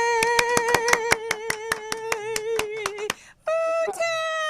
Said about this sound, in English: So let's welcome, with a great big round of applause, Mr. Tim Thorndike to the studio.